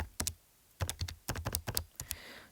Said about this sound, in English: And I would just type that into my calculator